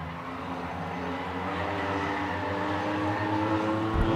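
Race car engines drone steadily, roaring at an even, slightly rising level midway through a feature race.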